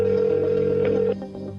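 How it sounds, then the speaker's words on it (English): A telephone rings early in the morning inside a house: a loud, steady electronic tone that holds for about a second before cutting off, leaving a softer murmur. "The phone rang early at Pam Bardet's house"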